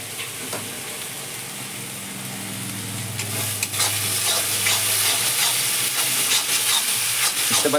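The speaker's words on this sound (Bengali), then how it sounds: "এগুলোকে সব কিছুকে একদম ভেজে নিতে হবে।" A ground spice paste fries and is stirred in a pan for a chicken dish, a close sizzle that swells louder midway with scraping stir strokes, no talking.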